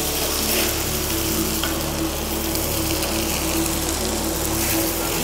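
Grated potato being stirred in a hot pan while making fish fingers, with a loud, continuous sizzle and frying hiss and a steady low hum underneath.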